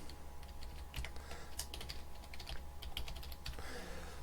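A computer keyboard clicks in quick, irregular bursts of keystrokes as a name is typed, close and fairly quiet against low room noise.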